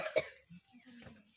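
A person with a cold giving a short, faint cough and throat clearing, followed by quiet low murmuring.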